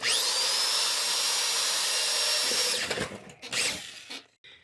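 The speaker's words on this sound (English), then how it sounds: "taking a power drill and drilling said rivets out" A power drill whines loudly and steadily at high speed drilling out rivets on a TV/radio chassis, then winds down, followed by a few scraping, clattering metal sounds.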